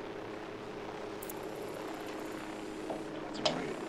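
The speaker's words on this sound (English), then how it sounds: "Deploying drone." A small camera drone flies with a steady, buzzing propeller whir at moderate volume, with a couple of faint clicks near the end and no talking.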